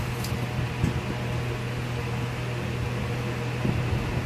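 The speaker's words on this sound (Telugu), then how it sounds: "ఇప్పుడు ఇవన్నీ మిక్సీ జార్లోకి తీసుకుని కొంచెం బరకగా అయితే మిక్సీ" A kitchen mixer grinder whirs steadily while grinding fried masala spices, a constant motor hum with a gritty, noisy wash and faint rattles throughout.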